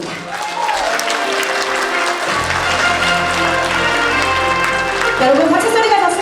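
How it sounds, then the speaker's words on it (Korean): A crowd gathered for a Daegu education superintendent candidate's campaign office opening claps loudly and continuously, with music playing underneath and the applause swelling slightly toward the end. "여러분 박수 소리가 났습니다"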